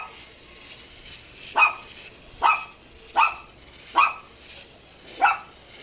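Five sharp barks from a dog named Tigor, spaced about a second apart, fairly close and distinct, with no talking.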